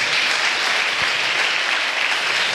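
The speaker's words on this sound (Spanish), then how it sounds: "Denle un aplauso al rey." A church congregation applauds at a Holy Spirit tribute service, a dense sustained wash of many hands clapping steadily and loudly throughout, with no break.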